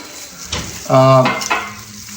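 Vegan mushroom-based oyster sauce hits a hot pan with a close frying sizzle, a brief tonal squeal from the pan, and a couple of stirring knocks.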